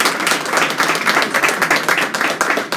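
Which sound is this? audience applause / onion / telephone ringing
audience applause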